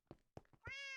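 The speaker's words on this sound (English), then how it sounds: "I keep thinking that's a real cat making noise" A cat meows in the video game Minecraft, one drawn-out, clear meow following a few soft muffled thuds, close and prominent.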